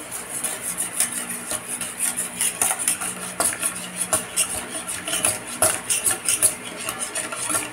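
A spoon stirs a Milo dessert in a pot, scraping and clinking against the metal in a steady, close, repeated rhythm with no talking.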